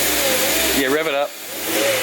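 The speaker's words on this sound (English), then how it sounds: "Yeah, rev it up." A car engine revs up shortly after being restarted following engine bay painting, with a rising then falling whine. A voice talks over it before the engine settles back toward idle.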